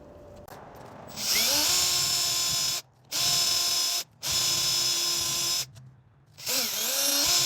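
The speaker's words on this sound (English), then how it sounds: "I can just take my drill and go into each one of these" A power drill whines loudly in several bursts separated by short pauses, biting through wood close by.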